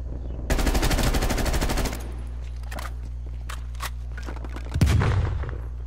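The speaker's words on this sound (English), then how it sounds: "Enemy sniper shooting." Gunfire in the video game Call of Duty Black Ops Cold War: a loud, rapid burst of automatic shots, then quieter footsteps and thuds, and finally one sharp, heavy report like a sniper shot.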